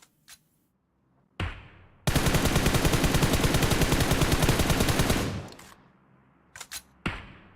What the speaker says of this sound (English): Hog sending big shots towards Pokey.